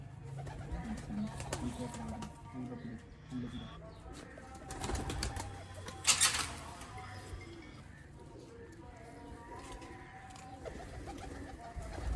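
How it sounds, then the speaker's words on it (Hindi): Rare pure Misse lace-patterned pigeons coo softly and repeatedly nearby, with a brief burst of fluttering wings partway through and faint background noise. "मिस्से कबूतर"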